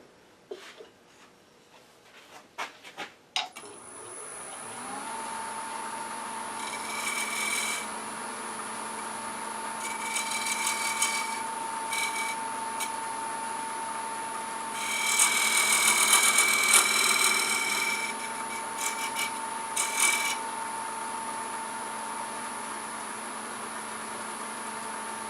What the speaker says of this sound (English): I think we want to bring that recess down just a little bit using our box scraper